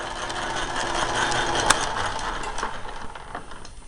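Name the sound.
lathe being set into back gear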